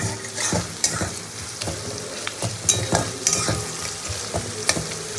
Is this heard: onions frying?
yes